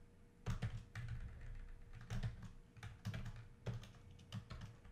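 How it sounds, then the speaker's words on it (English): Typing on a computer keyboard in bursts of quick, close clicks and clacks, with short pauses between flurries, heard alone without talk. "having a hard time typing here"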